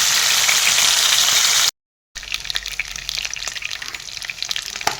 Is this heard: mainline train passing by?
no